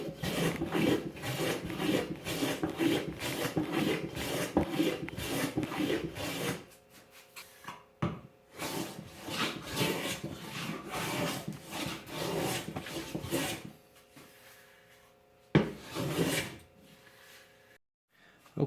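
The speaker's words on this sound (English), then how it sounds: "I just wanted to take something that was just a little bit rough and smooth it down just so it's nicer to work with." Rough pallet wood being smoothed with a hand file or rasp in a workshop, with repeated rhythmic scraping strokes, then a pause and a few scattered rubbing strokes.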